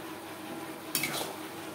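Spice masala with red chili powder frying in a pan for mutton curry, a faint steady sizzle with one brief scrape of a spoon stirring against the pan in the middle.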